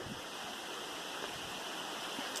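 A stream flows along the Appalachian Trail in Maryland, a steady, soft broadband rush of moving water heard from the trail with no voices.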